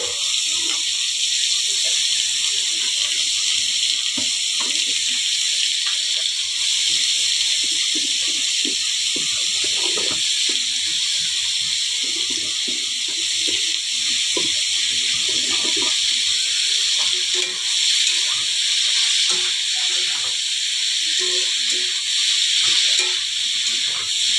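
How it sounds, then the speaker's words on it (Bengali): Ash gourd fries in a pan, a loud continuous hiss and crackle of oil that holds steady and close the whole time. "চাল কুমড়োটা ভাজা বসিয়ে দিচ্ছি"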